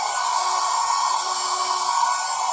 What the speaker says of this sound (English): I need to use the hair dryer to kind of blow this stuff around.